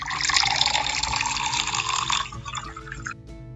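Liquid poured into a container, a close, continuous splashing gush that runs for about three seconds and then stops abruptly, heard alone.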